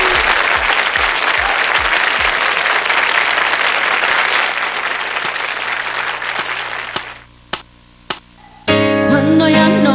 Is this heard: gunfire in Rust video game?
no